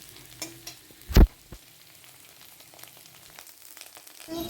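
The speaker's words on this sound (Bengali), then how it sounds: "আলু পেঁয়াজ সবটাই ভালো করে ভাজা ভাজা হয়ে গেছে" Potato, onion and egg fry in a pan with a faint, steady sizzle, interrupted by one sharp clank of a stirring utensil against the pan and a few softer scrapes.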